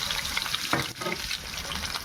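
Sliced bitter gourd frying in oil in a kadai, a dense continuous sizzle with a brief stir-like scrape in the middle, close and steady.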